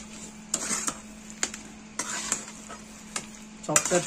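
A spoon stirs and mixes a batata vada batter seasoned with organic salt and chili powder, making a series of distinct scraping strokes about every half second over a steady low hum, close and alone without talk.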